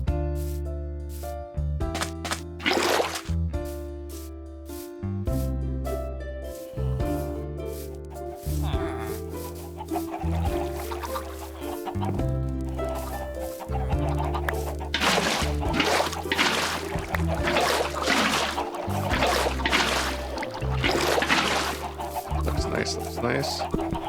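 Chickens cluck in the Minecraft video game, with repeated short calls heard under steady background music and a person talking.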